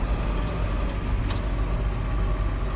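An 8870 tractor pulling into a farmyard during soybean harvest produces a continuous, fairly close engine rumble with a few light rattles and clicks on top. No one speaks.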